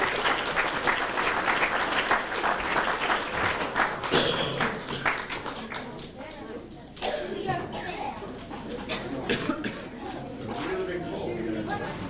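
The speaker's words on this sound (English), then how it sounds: "Give them a warm round of applause." An audience at a 1995 talent show applauds a piano Christmas duet: sustained, fairly close clapping with children's voices and chatter mixed through it, easing briefly midway before picking up again.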